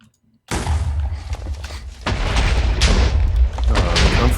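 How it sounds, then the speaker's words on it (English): Loud, booming explosions in the video game Minecraft erupt after a brief silence, a heavy sustained rumble with further blasts layered on top that keeps building and stays dense until the end. "The comforting sound of explosions."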